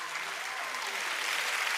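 A town hall audience at a Lagos law week meeting gives a short, steady round of applause, a dense even patter of many hands with no speech.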